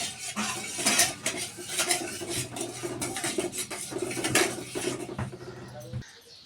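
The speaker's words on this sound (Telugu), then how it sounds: "మైదాపిండి కొద్ది కొద్దిగా వేసుకుంటూ కలుపుకోవాలి" A spoon stirs maida flour into melted jaggery with cardamom powder in a metal vessel, making a close, busy run of scraping and clinking strokes for about six seconds before stopping abruptly.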